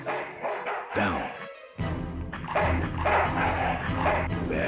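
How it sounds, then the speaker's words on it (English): A dog barking in the video game Full Throttle Remastered, several sharp close barks and yips in quick bursts mixed with growling game noise and a brief break. "Bad dog."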